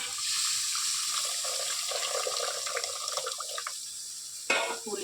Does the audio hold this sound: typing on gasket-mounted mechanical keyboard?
no